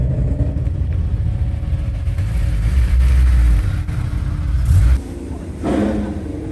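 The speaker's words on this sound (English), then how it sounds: "there's a bunch of cars about to get on the track right now" Several cars idle and rev together at a race circuit before heading onto the track, a steady low engine rumble holding close by with a brief surge of revving near the end.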